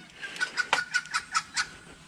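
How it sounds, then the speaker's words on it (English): Wattlebirds call in the morning near a rural yard, giving a run of about seven sharp, evenly spaced harsh notes, fairly close and clear against a quiet background. "And the wattle birds are happy this morning."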